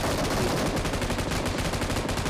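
Rapid automatic gunfire in the BGMI battle royale video game rattles in a dense, loud, continuous burst of shots with no pause and no talking.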